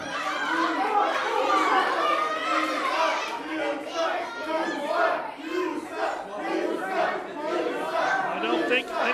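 Wrestling crowd at an independent show loudly chanting and yelling at a wrestler, a dense roar of many voices rising and falling throughout.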